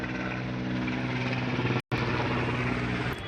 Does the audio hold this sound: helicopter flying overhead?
yes